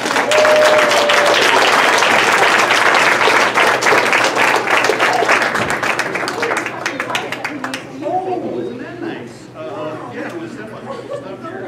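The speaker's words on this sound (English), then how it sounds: "But one more big round of applause for everybody" An elementary school crowd claps loudly and steadily, then the applause thins into chatter, laughter and scattered voices.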